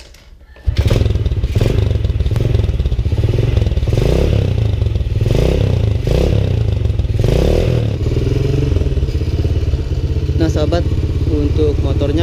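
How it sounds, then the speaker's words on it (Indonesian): A Honda Supra motorcycle engine catches after a brief quiet start and settles into a loud, close, steady idle with rhythmic surging and a faint clatter, running on to the end. "untuk motornya langsung hidup"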